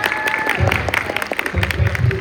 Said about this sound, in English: I hope you guys all give a round of applause